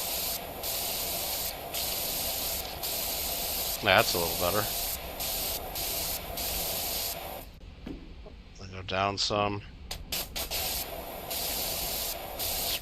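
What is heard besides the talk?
pressure washer spraying a ladder, PowerWash Simulator 2 video game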